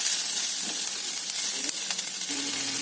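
Steady sizzling of a masala mixture with salt and garam masala frying in a pan, with a few stirring scrapes near the end, close and continuous with no talking.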